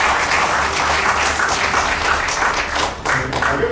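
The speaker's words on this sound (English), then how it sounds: "Now please give a round of applause for our role models." An audience at a finance and entrepreneurship forum in Kenya applauds role models, a loud, dense and steady round of clapping that carries on throughout with a slight dip near the end.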